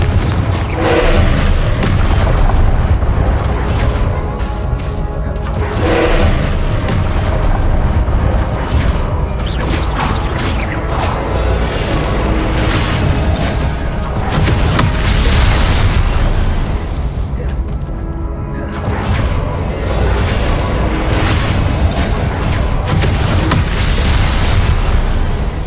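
Dense, loud game combat in Hogwarts Legacy with repeated booming Confringo spell explosions and bursts layered over continuous action noise, a few sharper blasts standing out.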